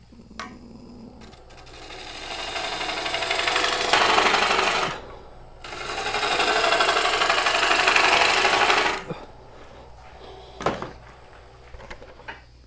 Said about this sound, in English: one way to remove that material quickly is with a pull cut or a scraping cut